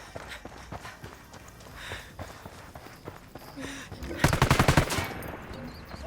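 A Ghost Recon Wildlands turret machine gun fires a loud burst of rapid, evenly spaced shots lasting under a second, after quieter footsteps and movement, with faint distant shots earlier.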